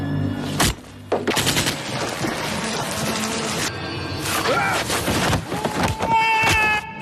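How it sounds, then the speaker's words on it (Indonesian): A film scene has bursts of rapid gunfire, with repeated machine-gun volleys and single shots cracking loudly over dramatic sound effects and music, and a brief voice in the middle. "Tembakan demi tembakan dilepaskan, namun tak satu pun mengenai dirinya."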